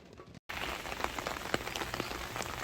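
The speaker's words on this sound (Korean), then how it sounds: "비가 와요." Steady rain falls at a riverside auto campsite by the Hantan River in Yeoncheon, a dense close patter of drops on surfaces that continues throughout after a brief dropout near the start.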